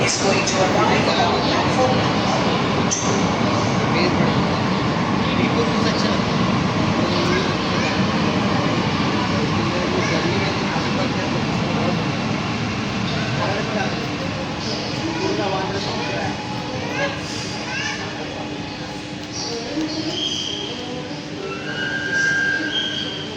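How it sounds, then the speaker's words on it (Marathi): A metro train pulls into a station with a broad, rushing roar that gradually eases, followed by whining, squealing tones as it slows, while people talk nearby. "आता मेट्रो येत आहे. आली मेट्रो."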